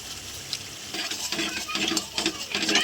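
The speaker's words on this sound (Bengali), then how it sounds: "মশলাটা দিয়ে ভালো করে কষিয়ে নেব।" Spice masala of turmeric, red chilli and cumin powder sautéed with yam and potato in a pan, close scraping stirs over a soft sizzle, irregular bursts of utensil contact, no talking.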